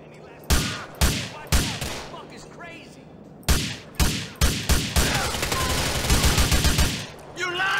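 Slow-firing gun in GTA IV, loud single shots in spaced bursts, then a quicker run of rapid cracks near the end, with a voice talking between them.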